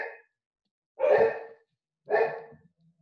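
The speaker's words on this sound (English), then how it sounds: "Sorry about the dogs." Dogs bark indoors in the background of a lecture, three separate loud barks spaced about a second apart with silence between them.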